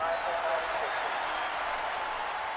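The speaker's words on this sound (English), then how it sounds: "That noise from the crowd means only one thing, ladies and gentlemen." A motor-racing crowd at the Australian Grand Prix in Melbourne roars at the start of a new season, a steady, broad wash of cheering and applause with no break.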